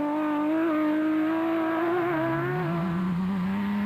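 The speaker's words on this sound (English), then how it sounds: "now with a very different exhaust note compared to that of the V8 previously used." A Team Ford Racing Ranger race truck, fitted with a non-V8 engine, runs at the 2003 Sugarbelt 400 rally, its loud, tonal exhaust note holding steady and then dropping in pitch, heard alone without voices.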